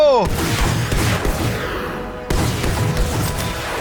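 A tank explodes in Battlefield V during a match featuring a rocket-firing Sherman. A sharp blast opens a dense rumble of gunfire and crashing impacts, and a second heavy explosion bursts out midway.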